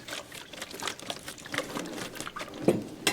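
An Rx Destroyer drug disposal container is shaken gently, giving faint, irregular sloshing and rattling pulses with a couple of sharper knocks near the end.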